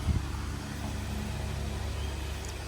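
Hero Super Splendor BS6 i3s motorcycle with about 43,000 km, engine running with a steady mid-low idle hum, close and continuous, no talking over it.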